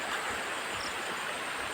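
Water gushing steadily on its own from a hand pump, a continuous broadband rush with no breaks, fairly close and unvarying, with no voices.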